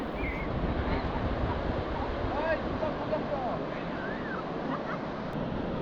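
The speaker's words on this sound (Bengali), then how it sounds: "এখানে সমুদ্র অনেকটাই শান্ত, ঢেউয়ের উচ্চতাও কম" Calm, low sea waves roll onto a wide white-sand beach at Bakkhali, making a steady broadband wash mixed with wind noise, with faint bird-like chirps and distant voices in the background.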